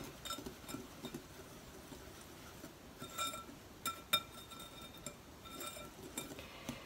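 A spoon stirs cream of tartar around a bowl, giving faint, scattered clinks and scrapes against the dish, with a few sharper taps near the middle and quiet room hiss between them.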